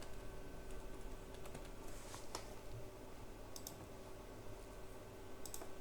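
Computer keyboard keys click in quick, irregular bursts close by, with a few sharper clacks standing out over faint room hum and no speech.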